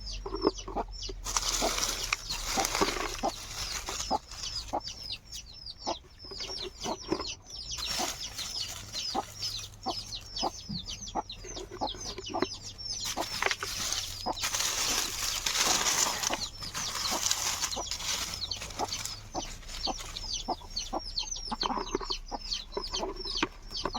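Country hens cluck repeatedly on a farm, with sharp, rhythmic clucks and occasional wing flaps close by, continuing steadily over a low background hum.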